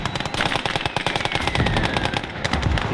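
Rapid automatic gunfire from the World War II game Call to Arms: Gates of Hell, dense bursts of close, loud shots in a fast rhythm with booming impacts underneath and no talking.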